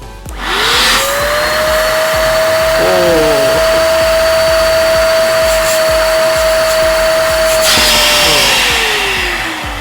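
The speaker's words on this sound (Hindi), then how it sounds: "अब हम इसको होल्ड करके देखते हैं, उठा के देखते हैं कि ये वैक्यूम क्लीनर अच्छे से इसको होल्ड कर पाता है या नहीं कर पाता है" An 800-watt Sheffield Classic SH 8003 handheld vacuum cleaner runs loud and close, a steady high motor whine that spins up at the start, holds level with a brief wobble, then winds down near the end.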